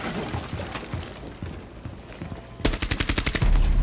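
Automatic gunfire in the video game Rainbow Six Siege, first scattered shots and footsteps, then a loud, rapid burst of evenly spaced rounds close by to the end.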